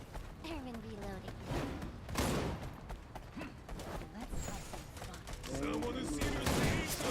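Gunfire from the Wild Assault video game: rapid, dense bursts of shots rattle through the whole stretch, fairly close and loud, with thumps mixed in and voices talking over the shooting.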